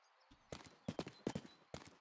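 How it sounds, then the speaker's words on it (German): Horse hooves clip-clop in the video game Rustler, a few short hoof knocks arriving in uneven bursts, fairly close and moderately loud, with no voices over them. "Was ist das hier für ein Pferd?"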